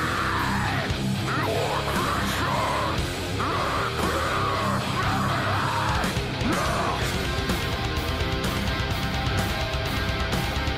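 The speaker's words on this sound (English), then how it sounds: "Unbelievable scream vocals." Harsh screamed vocals from a metal song ride over dense distorted guitars and pounding drums in a loud, continuous full-band mix.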